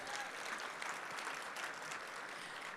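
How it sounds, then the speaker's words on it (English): At an Economic Club of Indiana luncheon, a faint, distant round of applause from the seated audience goes on as a steady, even patter of many hands, with no voices over it. "So if we could do one more round of applause for the full table, the president's table,"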